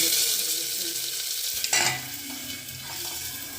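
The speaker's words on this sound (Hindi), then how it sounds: "तेल गर्म हो गया था, सबसे पहले तो इसमें अजवाइन डाल दी मैंने" Steady sizzling of carom seeds and onion frying in hot oil, with a brief louder crackle and stirring partway through.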